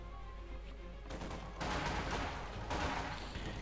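Gunfire from the World War II strategy game Company of Heroes 2, where Soviet conscript infantry fire away in a battle, comes as dense crackling bursts of rifle and machine-gun fire, loudest in two stretches with no talking.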